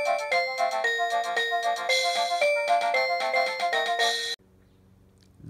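A wireless doorbell rings a bright electronic chime melody loudly in repeated tonal phrases for about four seconds, then cuts off abruptly into a quiet low hum.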